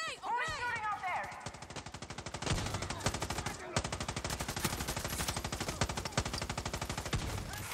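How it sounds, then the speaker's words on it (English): Sustained automatic gunfire from the video game Far Cry 6 rattles in rapid, steady bursts for most of the stretch, loud and close, following a brief whistling, chirping effect at the start. "Who's shooting out there?"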